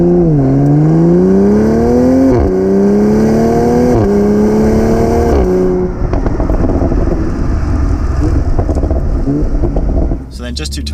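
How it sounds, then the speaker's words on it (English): A 2020 Toyota GR Supra Launch Edition revs loud and close while driving, its exhaust tone climbing through several gear pulls before settling into a rougher, broadband cruising roar, with a brief dip near the end. "The exhaust sounds so good."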